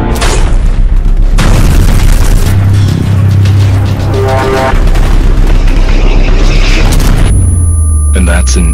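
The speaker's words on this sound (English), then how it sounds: "And that's an 81 caliber mortar." An 81 caliber mortar in a war setting lands heavy, booming blasts with rumbling low-end crashes and debris, loud and close across several seconds, with battlefield noise between the impacts.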